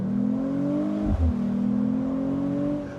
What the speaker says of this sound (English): it's not strictly natural, but it's not the worst synthesized, enhanced tune I've ever heard